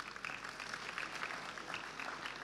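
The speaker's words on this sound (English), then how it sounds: "Give yourselves a round of applause." An audience in a university gymnatorium claps together, a steady, even patter of applause that stays fairly faint and distant throughout.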